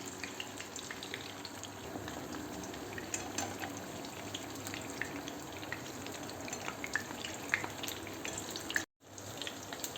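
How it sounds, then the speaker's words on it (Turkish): Eggplants frying in hot oil for a béchamel and kasseri eggplant dish give a steady, dense sizzle and crackle with small pops throughout, dropping out briefly near the end before resuming, with no talking. "Patlıcanlarımızı ön ve arkalı kızgın yağda kızartalım."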